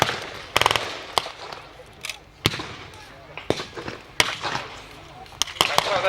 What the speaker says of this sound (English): you'll notice the Germans are now getting closer and using grenades